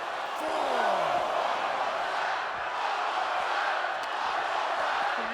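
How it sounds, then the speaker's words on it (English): Arena crowd in a WWE 2K wrestling video game, a loud continuous roar of cheering and shouting that fills the whole clip with a steady level. "The crowd are bloodthirsty tonight."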